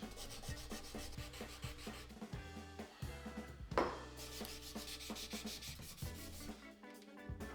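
Welded scrap metal is hand sanded with steady, rhythmic back-and-forth rubbing strokes, close and continuous for the whole stretch, with no voices.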